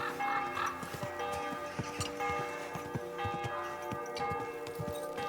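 Horse galloping in Kingdom Come: Deliverance 2, rhythmic hoofbeats thudding steadily across the clip alongside faint jingling tack and ambient game sounds, moderately quiet overall.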